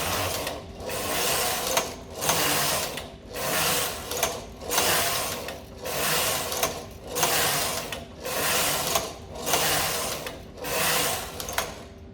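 A domestic knitting machine carriage swept back and forth across rows at a loose tension setting of 10, giving a steady rhythmic series of about ten mechanical whooshing, clattering passes, close and alone.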